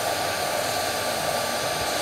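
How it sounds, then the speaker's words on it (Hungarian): A hair dryer blows a steady, loud stream of air to hold a ping-pong ball floating in a physics demonstration, a continuous broadband whoosh with no talking. "most bekapcsolom a hajszárítót"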